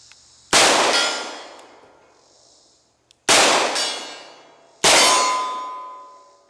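Three sharp metallic clangs from a steel ram silhouette target struck by shots from a 3-inch-barrel revolver firing hand loads, each hit ringing out and decaying over about a second, spaced irregularly with quiet gaps between.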